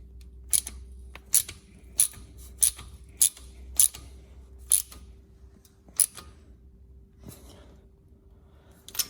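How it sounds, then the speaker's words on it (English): Ratchet wrench tightening a spark plug back into the head of a 4x4 off-road truck: a run of about eight sharp, clicky strokes at an uneven rhythm, close and distinct over quiet background. "Just quickly with the ratchet."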